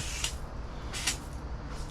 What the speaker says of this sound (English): I'm going to spray under the trailer.